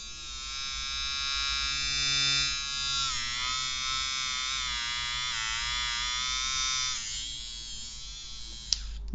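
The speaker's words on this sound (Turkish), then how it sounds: "Bir de nasıl çalıştığını göstereyim bir motor sesini duymak isteyen arkadaşlar için." An İnsua HD-102 electric nose hair trimmer runs close up with a continuous high buzzing motor whine. Its pitch wavers and strains slightly throughout, with a small click near the end and no speech.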